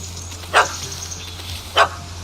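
A dog in The Witcher 3 gives two sharp, separate barks about a second apart, moderately close, over a low steady game ambience hum with no speech.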